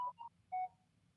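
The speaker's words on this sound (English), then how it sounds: "potentially it's the WhatsApp communication backstage. It's my phone" A WhatsApp message notification chimes from a phone backstage, giving a few short, clean electronic tones in quick succession over a low hum in an otherwise quiet room.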